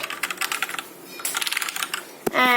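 Fast, crisp keystrokes clatter on a Gamdias Hermes Light keyboard in close, irregular bursts, with a brief pause and a sharper tap near the end.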